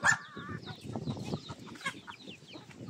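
Chickens cluck and murmur nearby in a steady low chatter, with a louder squawk at the start.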